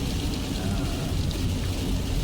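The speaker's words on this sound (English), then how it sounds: "a lot of rain going on and cops on the freeway" Heavy rain pours down in a steady, dense hiss and patter, loud and continuous with a low rumbling undertone, no voices.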